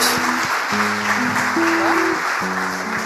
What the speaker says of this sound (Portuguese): Vamos aplaudir Jesus mais uma vez?